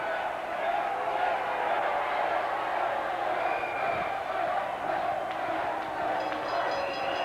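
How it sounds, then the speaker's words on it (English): A capacity crowd at a 1983 wrestling arena chants and roars in a dense, steady wall of sound that fills the hall, with a few sharp whoops poking out on top. "this capacity crowd chanting"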